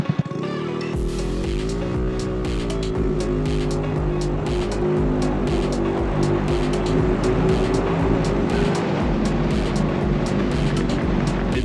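A Honda Navi minibike fitted with a 19mm Nibbi carburetor revs up and accelerates hard, its small engine note climbing and then holding a loud, sustained buzz close by.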